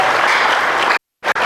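A church congregation cheers and applauds for God in a loud, dense wash of clapping that cuts off abruptly into silence, then briefly resumes.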